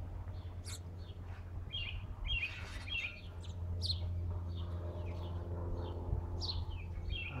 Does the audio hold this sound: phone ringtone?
no